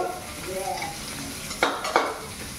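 Garlic, ginger and onion sautéing in a pan for paksiw, a soft steady sizzle with a utensil stirring, followed by two sharp clinks of metal against the pan near the end.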